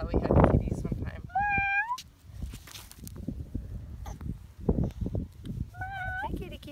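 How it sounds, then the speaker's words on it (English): A cat gives two clear, high meows a few seconds apart, heard under nearby voices and shuffling movement. "Kitty, cat, kitty, kitty. Meow."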